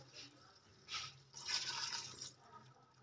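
About a glass of water is poured into a pot of moong and mixed vegetables before pressure cooking, a faint brief splashing pour in a quiet kitchen.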